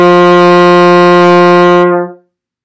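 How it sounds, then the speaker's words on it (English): A single loud, steady French horn note sustained for about two seconds as a breath attack exercise, then cleanly released into silence. "Breath attacks."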